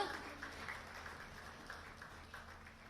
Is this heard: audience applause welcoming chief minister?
yes